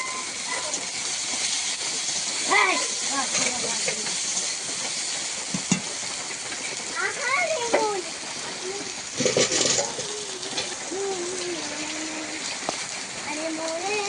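Chopped tomatoes hit a hot pan of onions, green chillies and five-spice seeds frying in oil, giving a continuous moderate hiss and sizzle with small crackles while someone talks over it.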